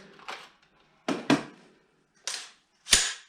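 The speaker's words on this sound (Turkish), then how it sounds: "Kurma kolunu tekrar çekersiniz" A few sharp metallic clacks from an AR-15-type rifle as its charging handle is pulled back and released, close and crisp, with short silences between them.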